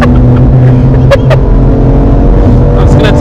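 A BMW M2 drives along while its tyres are being warmed, heard from inside as a loud, steady engine and road drone with a few short higher squeaks.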